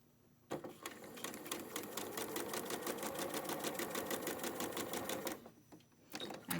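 A sewing machine stitching quilt block pieces, running in a steady rapid clatter for about five seconds before stopping, close and clear over a quiet room.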